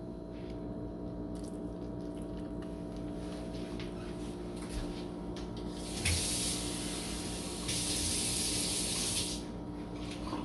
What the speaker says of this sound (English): So I'm gonna put a little bit more water in there